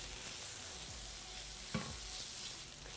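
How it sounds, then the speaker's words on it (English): Tomato paste fries and browns as it sticks to the bottom of a pan, a soft, even sizzle held at low volume with a single brief scrape of a utensil partway through. "it is now sticking and beginning to brown on the bottom of the pan"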